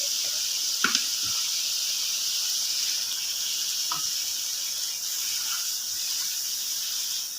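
Matar keema with water added simmers in a pan over low heat, giving a steady close hiss and sizzle with a few soft clinks and pops along the way.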